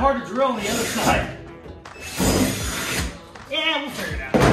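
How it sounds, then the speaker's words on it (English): A power drill bores holes in a car body during a Monte Carlo custom build, coming in bursts of grinding, whirring noise separated by short pauses, with people talking nearby. "let's drill some holes, baby"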